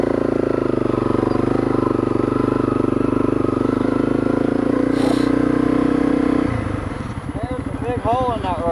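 Honda CRF250L dual sport motorcycle climbing a dirt road, its engine droning steadily up close, then dropping to a lower, rougher note as the gear slips to neutral, with rattling and wind noise around it.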